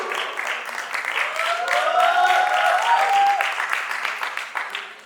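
Audience applause and cheering at an MC battle royale emcee event, a dense sustained roar of clapping and crowd noise swelling loud for about five seconds, with a whistle-like tone sliding through the middle.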